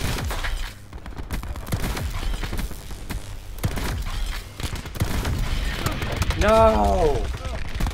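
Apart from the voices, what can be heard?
gunfire in a video game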